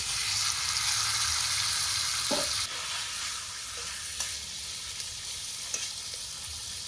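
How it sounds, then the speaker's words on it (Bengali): Marinated chicken hits hot oil in a kadai with a loud, dense sizzle that eases slightly after a few seconds, broken by faint stirring clinks. "এখন মাখানো মাংসটা ঢেলে দিই, কড়াইতে ঢেলে দিলাম।"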